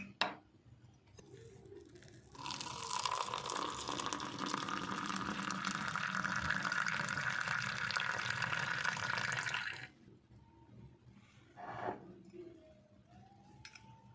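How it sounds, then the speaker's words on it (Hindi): Milk pours into a cup of coffee while making cappuccino at home: a soft tap precedes a continuous, close gushing pour lasting about seven seconds, followed by quiet small clinks and brief faint sounds afterward. "अब इसमें दूध पोर करेंगे।"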